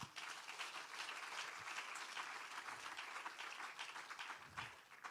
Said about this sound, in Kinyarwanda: tubakomera amashyi